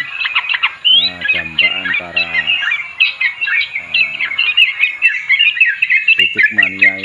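A yellow-vented bulbul sings a lively, continuous run of bright, warbling chirps, loud and close, while a person talks intermittently underneath.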